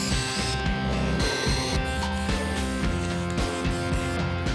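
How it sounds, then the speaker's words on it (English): A power drill fitted with an eighth-inch bit bores a hole through a 2x4 wooden board, its motor whining steadily and loudly close by, with the pitch dipping and rising as the bit bites into the wood. "I'm gonna drill an 1/8-inch hole"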